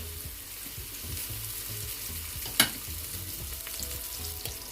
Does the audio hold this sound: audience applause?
no